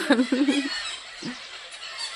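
Harsh, squawking parrot calls in a quick burst of several cries from the trees, then a brief pause and one more call, outdoors and fairly close.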